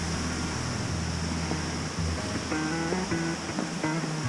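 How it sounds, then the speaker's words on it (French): A small river flows below a forest trail, a steady close rush of water with a few faint tonal chirps and clicks sounding over the continuous wash. "On a une petite rivière qui coule en bas."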